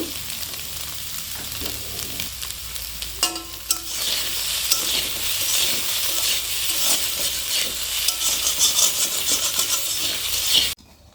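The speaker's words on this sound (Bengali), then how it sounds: "লবণ আর হলুদ দিয়ে আমি সবিনটা ভেজে উঠিয়ে নিব" Soybean chunks fry in a hot pan with salt and turmeric, giving a steady, close sizzle with spatula scrapes and stirring. A brief metallic clink comes a few seconds in, and the sound cuts off abruptly near the end.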